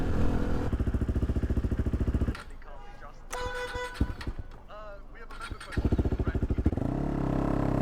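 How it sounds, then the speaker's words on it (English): A KTM RC 390 motorcycle engine loud and close, its exhaust pulsing in a rapid throb that drops away in the middle, then returns. "The last thing I don't like is how loud this exhaust is. It just makes too much noise."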